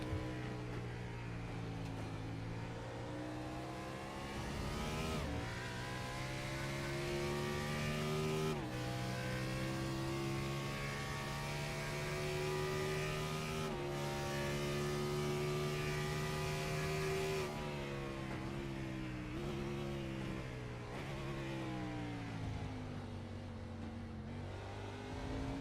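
Onboard race car engine in a sim racing league race at Westlake, a loud sustained drone that climbs in pitch through the gears, with sharp drops at each upshift and throttle lifts for corners, unbroken by talk.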